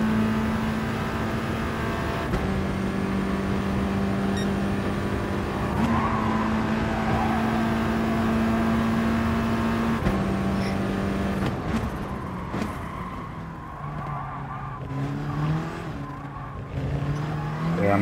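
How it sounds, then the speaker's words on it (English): Race cars circling a track in the video game GT Sport, a steady, loud engine drone that shifts pitch through gear changes, with tire squeal and rising revs near the end. "Just taking this first lap easy on the fresh mediums, wearing them in nicely."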